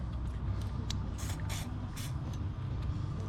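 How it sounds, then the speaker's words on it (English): JB80 lubricant sprayed from an aerosol can into the carburetor slide of a three-wheeler, short hissing bursts in quick succession, close and fairly quiet over a low rumbling background. "Alright, I'm going to put a little lubricant in the slide."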